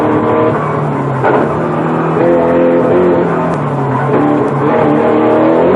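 A 1986 touring race car's engine roars loudly on a racetrack, revving through gear changes with rising and falling pitch as it pushes through corners, close and continuous.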